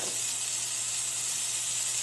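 Bacon sizzling in a warm pan for a Denver sandwich, a steady, close hiss that holds at an even level throughout with no talking.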